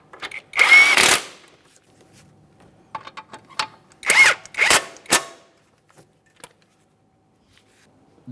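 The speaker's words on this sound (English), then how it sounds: "I'll start in my two 17mm headed mounting bolts and snug them up" A power tool runs in two short bursts, close and loud, with light clicks and tool handling between them, as 17mm brake caliper mounting bolts are snugged up on a 2008-2017 Mitsubishi Lancer front hub.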